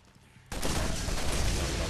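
Sustained burst of gunfire in the video game Borderlands, fired from a pistol, bursting in loudly after a quiet half-second and continuing as a dense, steady roar of shots.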